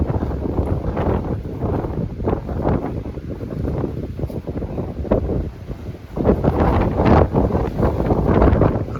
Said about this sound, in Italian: Un vento fortissimo riesce comunque a farla un po' girare